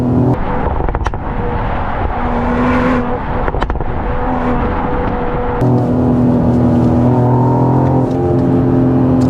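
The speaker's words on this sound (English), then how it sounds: "The pops and bangs don't stop." A Mercedes-AMG GLE 53 engine revs hard and close, with a deep droning exhaust punctuated by sharp pops and bangs, its pitch rising and falling as the throttle changes.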